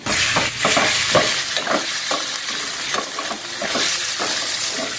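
Ground pork frying and being stirred in a hot pan, a steady close sizzle broken by repeated scraping strokes of a spatula throughout, with no talking.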